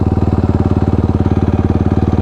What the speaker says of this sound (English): now that we're sitting idling. No air is moving, it's just the fan